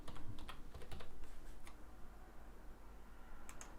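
Keys on a computer keyboard being typed in a quick burst of light clicks, then slower scattered taps while a folder name is entered, quiet and close with no voices.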